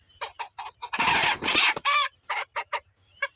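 A native desi hen clucks up close in a quick series of short, sharp calls, breaking into a longer, louder squawking flurry before the clucks resume.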